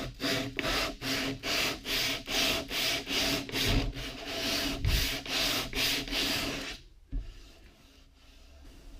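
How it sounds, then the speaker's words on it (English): Sandpaper bent over a wooden guitar neck being shaped by hand, rubbed in about a dozen steady rhythmic back-and-forth strokes, loud and close, ending with a knock and quiet handling. "We're gonna bend the sanding paper totally over the neck."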